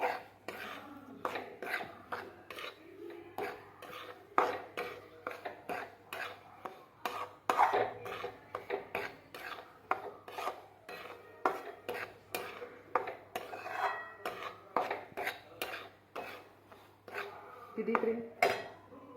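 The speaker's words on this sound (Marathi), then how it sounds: "नंतर सगळं मिक्स करून घेऊ आपण।" Spoon repeatedly scraping and clinking against a pan while rava ladoo mixture is stirred, steady rhythmic metallic taps close by with a low hum underneath.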